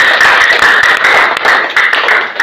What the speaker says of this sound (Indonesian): Kasih tepuk tangan untuk kita semua.